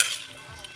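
Metal utensil scraping and clinking against a pan while shrimp adobo is stirred, a short burst of bright scrapes at the start and a small clink near the end, fairly quiet with no talking.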